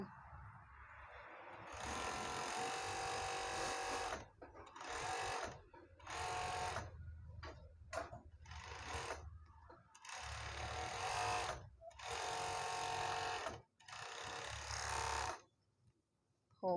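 Overlock sewing machine finishing the crotch seam of elastic-waist shorts, running in several loud bursts of steady whirring broken by short pauses as the fabric is guided around from front to back.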